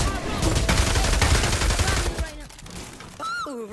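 Dense automatic gunfire rattles in rapid bursts in the virtual-reality shooter Pavlov during a zombies match, loud and close, then thins out as a voice cuts in near the end.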